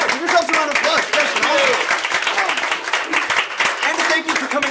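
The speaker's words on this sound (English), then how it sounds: "give yourselves a round of applause" An improv comedy audience claps and cheers in a continuous burst, loud and close, with voices talking over the applause.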